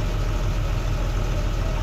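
An Ashok Leyland truck engine idles steadily, a continuous low diesel rumble with an even throb and no revving, close and fairly loud throughout.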